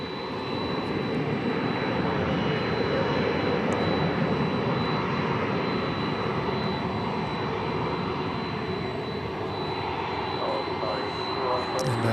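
Jet aircraft taxiing at night at Dallas/Fort Worth Airport, a steady, loud engine roar and whine holding evenly throughout at moderate distance, with no clear rise or fall.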